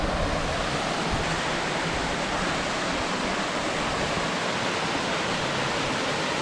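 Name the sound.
waterfall at the shut-ins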